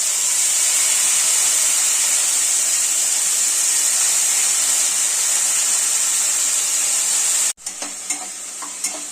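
Crushed green turkey berries, soaked in buttermilk, sautéing in a hot pan, a steady loud sizzle and hiss that cuts off abruptly, followed by a few faint stirring clinks.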